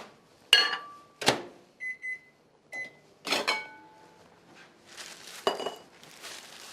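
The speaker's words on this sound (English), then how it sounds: "we just pop our margarine in the microwave to melt for 20 seconds" Microwave oven melting margarine: a few sharp clunks and clinks of the door and dish, then short electronic beeps, heard close and alone in a quiet kitchen.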